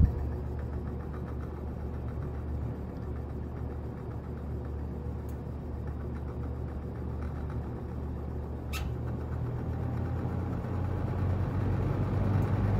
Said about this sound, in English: The motor sounds really cool though.